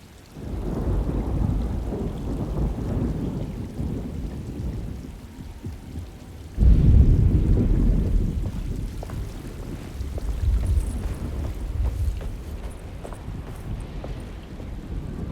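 Rumbling thunder rolls over steady heavy rain in Alone in the Dark (2024), loud and continuous, with a fresh thunder swell about midway and the downpour hissing on throughout, no voices.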